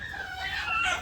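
Chickens in a 10 by 20–30 shed give a short run of clucking calls, fairly close and steady over about a second, with no voices.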